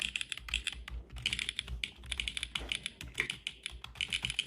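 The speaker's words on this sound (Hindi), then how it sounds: "तो एक ऐसा ऐप दिखाता हूँ जिससे तुम मैकेनिकल कीबोर्ड की फील ले सकते हो।" Simulated mechanical keyboard clicks from a typing app: steady, rapid keystrokes clatter on continuously, close and crisp, with no talking.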